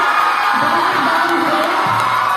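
A school award ceremony audience at Narayana e-Techno School cheers and whoops loudly for teachers, a dense continuous crowd roar with voices rising above it.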